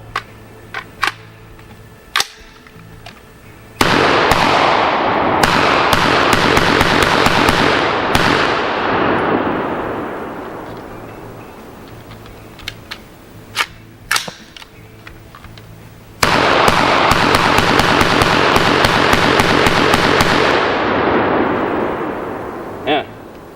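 AR-15 rifle with a polymer lower receiver and muzzle brake firing outdoors: sharp, loud reports, some single and some in rapid strings, each followed by a long decaying echo.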